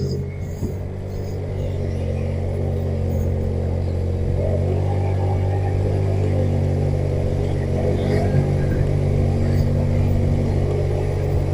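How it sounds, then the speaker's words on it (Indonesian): A motorcycle engine labours up a steep rural road to a village near the Jatigede reservoir in Sumedang, lacking power. It gives a steady, loud, low droning rumble close by, with faint voices in the background. "Motor Mbak Ino kok nggak ada tenaganya nih Cak Bro"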